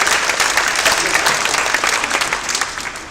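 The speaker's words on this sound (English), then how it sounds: "Steve, round of applause." Close, loud audience applause welcoming a speaker at a talk on vertical gardens, dense clapping from a small crowd that tapers slightly toward the end.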